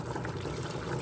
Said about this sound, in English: I'm going to have to add some more water